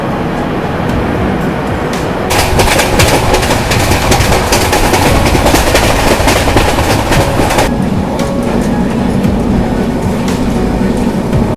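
Duronto Express train running through monsoon rain, a loud continuous rumble and rush with clattering wheel rhythm that swells in the middle and then eases back to a steadier drone.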